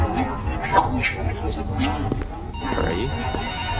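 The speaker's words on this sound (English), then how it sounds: "Oh, the phone!" A telephone rings inside the Roblox horror game Forgotten Memories, its repeating bell sounding over steady game ambience while a person talks briefly in the foreground.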